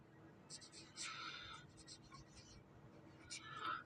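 Pen writing out a math solution on paper, close and faint scratchy strokes in short bursts with pauses between them.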